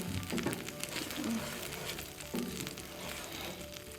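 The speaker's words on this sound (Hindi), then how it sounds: "अब इसको अच्छी तरह घी में ब्राउन करें और घी को भी अच्छी तरह फ्राई करें" Dates browning in ghee in a home kitchen pan for a semolina halwa, giving a steady, fairly faint sizzle and crackle throughout with a few soft stirring knocks.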